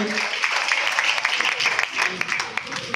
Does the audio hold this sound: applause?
yes